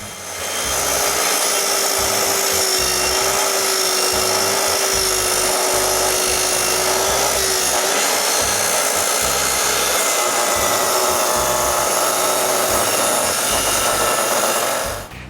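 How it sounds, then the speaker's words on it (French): A plunge saw makes a plunge cut in wood during construction of a workshop. The cut is one loud, sustained, steady whine of the motor and blade that runs close and unbroken, with no talking. "avec la raille de ma scie sur la ligne, je fais une coupe plongeante"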